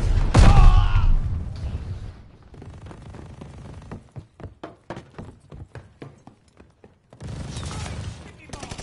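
Video game combat with a loud burst up front, then a run of sharp rapid gunshots and a final loud stretch of firing, close and punchy.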